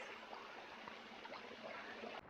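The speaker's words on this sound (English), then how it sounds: "here, and it is just a waterfall." Steady rushing water from a waterfall along a steep, rocky hiking trail descent in the New Hampshire mountains, a continuous broadband hiss heard from nearby with no voices.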